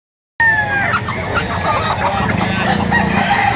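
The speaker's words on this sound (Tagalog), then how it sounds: "Napakaraming manok dito" Roosters crow loudly and chickens cluck close by at a farm in Lipa, Batangas, raising a dense continuous din from the moment it starts, with faint voices mixed in.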